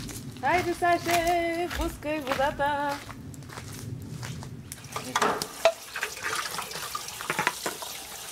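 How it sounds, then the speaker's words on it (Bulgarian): Water runs from a tap in a village kitchen, a steady splashing wash heard mostly in the latter half, while a person speaks nearby over it in the opening seconds. "Пускай водата."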